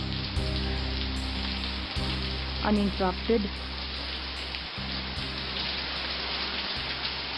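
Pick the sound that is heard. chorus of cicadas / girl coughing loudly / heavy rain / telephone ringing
heavy rain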